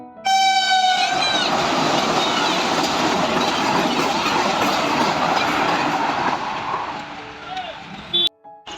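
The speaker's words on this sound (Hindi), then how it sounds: "ट्रेन अभी बक्सर में है" Train at Buxar railway station in India, a loud continuous rumble and clatter of rail cars running close by for most of the clip, with squealing tones at the start and voices faintly underneath.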